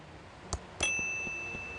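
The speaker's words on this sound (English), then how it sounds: "A bell for calling the sheriff." Desk bell rung to summon the hotel manager in the Thimbleweed Park adventure game, a small ding followed by a second, brighter ring that sustains and slowly fades, heard alone with quiet background.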